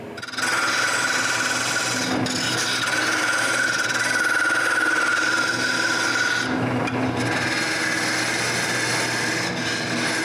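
A small wooden knob is cut by a power tool with a continuous rasping, grinding whine, steady and close, with two brief dips in the sound.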